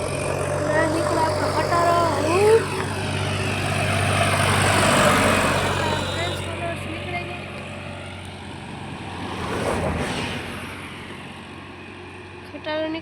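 A tractor rumbles past on a rural road, its engine drone swelling from a steady low roar, peaking midway and then fading as it moves off into the distance.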